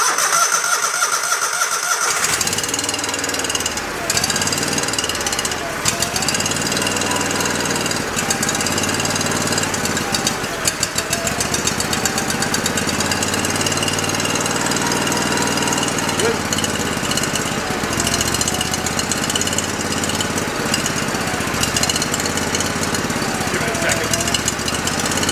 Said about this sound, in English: Let's go squirt a little bit of gas in the carb. Get to run on that.